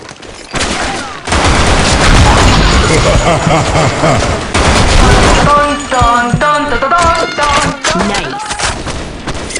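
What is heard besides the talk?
weapon gunfire in video game BlackShot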